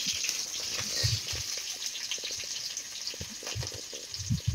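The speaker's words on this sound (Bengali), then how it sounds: "লাল লাল করে পনির ভাজা হচ্ছে।" Paneer pieces frying in a pan give a steady, close hiss of sizzling oil with soft scraping and stirring knocks throughout, no voices present.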